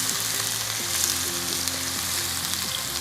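Finely chopped onions sauté in hot oil, a steady close sizzle filling the whole stretch at an even level, with no voices.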